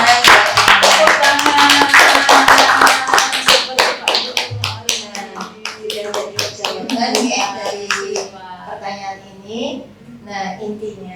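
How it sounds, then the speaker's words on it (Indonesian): Hand clapping at a teachers' positive-culture dissemination session, a rhythmic run of sharp, distinct claps in a steady beat, with voices mixed in and the claps thinning toward the end. "Tepuk tangan."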